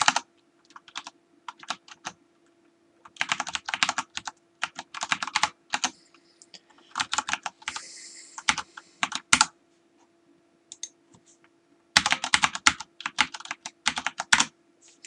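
Someone types on a computer keyboard, close clattering bursts of keystrokes separated by short silences, with a steady faint hum beneath.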